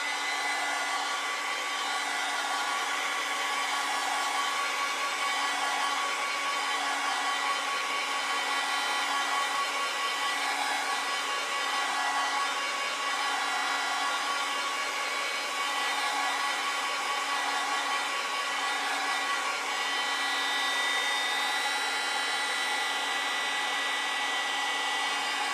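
A hair dryer blows on wet acrylic paint in a steady, loud, unbroken whirring roar that holds at an even pitch for the whole stretch, with no voices.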